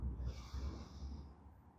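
A single ujjayi yoga breath drawn through a constricted throat gives a soft, close, hollow rushing hiss that swells and then fades away, with no speech.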